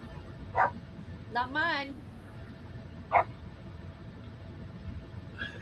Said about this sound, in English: Is that Ron's dog barking?